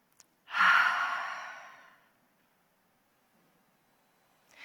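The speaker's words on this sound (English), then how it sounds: "it's a good time for us all to take a deep breath" One long, deep exhaled breath, a close breathy sigh that swells quickly and fades over about a second and a half, followed by near silence.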